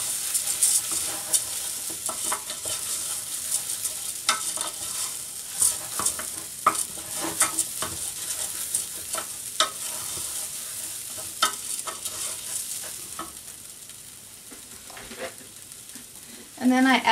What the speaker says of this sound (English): you're actually going to fry the rice for just a few seconds